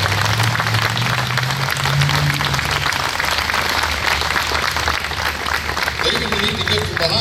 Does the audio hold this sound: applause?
yes